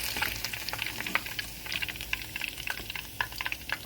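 Food sizzles and bubbles in hot oil in a home kitchen, a steady, close, busy crackle with small pops scattered throughout.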